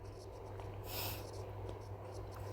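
Pen strokes scratch across paper during a classroom lecture on freehand writing, soft and continuous with one brief louder stroke, over a low steady hum.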